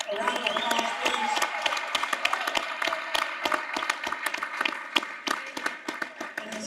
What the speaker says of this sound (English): Can we just give our coaching staff a round of applause, please?